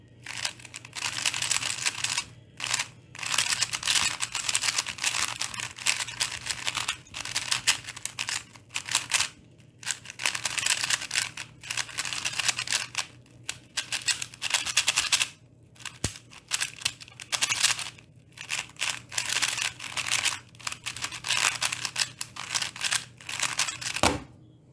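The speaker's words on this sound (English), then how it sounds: "For the WRM, it is also buttery smooth and satisfying to turn. You can also hear the WRM now." A WRM speedcube turns in rapid bursts of smooth clicky clacking, with short pauses between sequences. It is close and fairly loud, with no talking.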